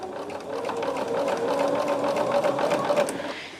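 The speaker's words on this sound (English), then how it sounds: "I'm just going to sew the 2 on, and then I will trim it off at 1/4 inch." A sewing machine runs steadily for a few seconds, stitching quilt block pieces together with a fast, even mechanical chatter heard up close and alone.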